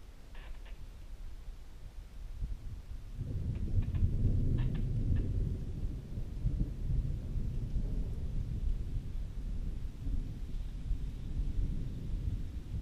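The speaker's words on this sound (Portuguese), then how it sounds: "temporal de chuva, trovoada" Thunder rumbles through a rainstorm, a deep low roll that swells after a few seconds and lingers steadily to the end, with a few faint ticks early on.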